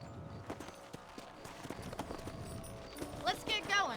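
Horses ridden in the Red Dead Redemption video game, rapid hoof clip-clops in a quick rhythm under a speaking voice, ending with a brief whinny.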